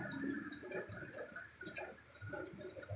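Water rushes steadily through a drainage canal during prolonged rain, a soft, continuous wash with faint splashing, heard from some distance.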